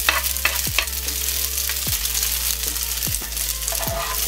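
Spring onions and ham fry in a hot pan with a steady broadband sizzle, while a utensil scrapes through them in sharp strokes roughly every second, over a low constant hum.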